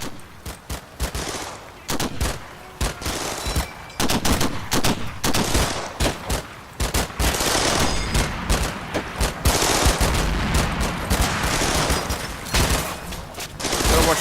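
Thompson submachine guns firing in the World War II tactics game Combat Mission, with dense overlapping automatic bursts and single cracks, some close and sharp and others farther off, building into sustained heavy fire.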